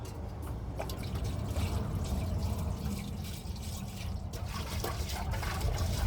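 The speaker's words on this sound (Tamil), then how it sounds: "இதில் தண்ணி ஊற்றி அழைச்சிட்டேன்." Water pours and trickles into a vessel of rice inside a truck cab, a close, steady splashing and dribbling that runs continuously for several seconds, with faint rustling handling noises.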